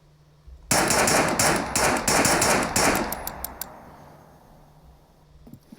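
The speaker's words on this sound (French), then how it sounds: "Donc on tire sans viseur." Pistol in the video game Scum firing without a sight: a rapid string of sharp, loud shots over about two seconds, slowing to a few last spaced shots before a fading ringing tail.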